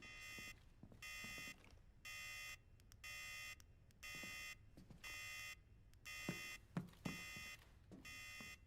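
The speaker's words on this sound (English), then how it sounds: "Sorry about the beeping in advance." An alarm beeps in a steady pattern of eight long, evenly spaced electronic tones, fairly loud, with a few faint knocks and clicks between them and no talking.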